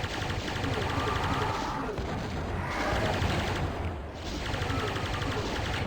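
A plasma gun fires at Pinkies in DOOM, a dense, continuous barrage of rapid energy shots and blasts that stays loud the whole way, with a brief dip near the middle.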